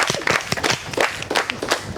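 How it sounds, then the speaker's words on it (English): Audience clapping for themselves at a trivia competition, a brief burst of scattered, fairly close hand claps with some voices mixed in. "Clap for yourselves one more time."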